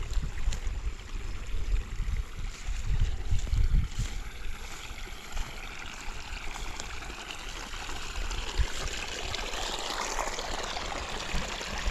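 Water drains off a farm field, a steady broadband rush of flowing water running throughout, fairly close and continuous without talk.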